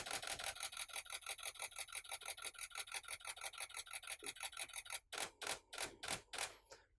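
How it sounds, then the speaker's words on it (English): A Canon 80D camera shutter fires in a rapid high-speed burst of about seven frames per second, a dense run of crisp mechanical clicks that then slows into a few spaced, separate clacks, close and alone. "the Canon 80 or 80D is that it will shoot at a high speed. You can get 7 frames per second, up to 25 raw frames."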